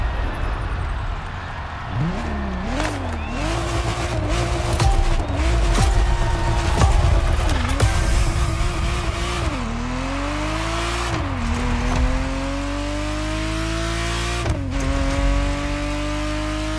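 Ferrari Testarossa flat-twelve in The Crew Motorfest, revving hard through repeated upshifts, each gear rising in pitch and dropping at the shift, loud and close with some tire noise throughout.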